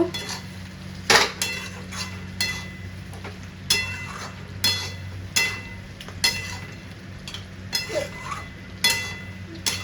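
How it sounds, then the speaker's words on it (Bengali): Chicken being stirred in a pot for a home-style Bengali chicken kosha, with repeated close scraping and clanking of a spoon against the metal pot at an uneven rhythm over a low steady hum. "চিকেনটা একটু কষিয়ে নেব নাড়াচাড়া করে।"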